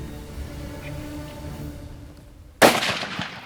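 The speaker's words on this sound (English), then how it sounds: "Good shot" A single sharp rifle shot cracks out during a leopard hunt in Tanzania, loud and sudden after a quiet outdoor stretch, followed by a fading echo.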